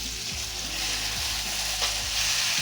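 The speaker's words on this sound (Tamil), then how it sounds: "இப்போ தக்காளி போட்டுக்கலாம். தக்காளி போடுறோம் பார்த்துங்க." Tomatoes are stirred into onions frying in a pan for prawn thokku. A steady close sizzle runs throughout, with several soft scraping stirs, and no one talks.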